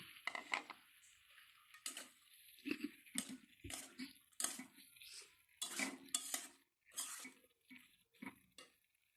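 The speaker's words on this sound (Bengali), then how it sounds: "এখন আমি মশলাগুলোর ভিতর ভাজা আলু আর সিম দিয়ে সুন্দর করে কষিয়ে নেব।" A utensil scrapes and clatters in a pan as fried potatoes and flat beans are stirred into spices for a Bangla potato and bean curry, in repeated uneven bursts close by with no talk.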